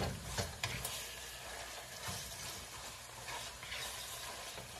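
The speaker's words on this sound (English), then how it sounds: "we're gonna cook our ground beef for our sauce" Ground beef browning in a pan for a pasta sauce, a steady soft sizzle with occasional stirring scrapes, quiet and continuous with no talking.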